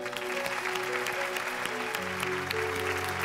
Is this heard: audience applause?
yes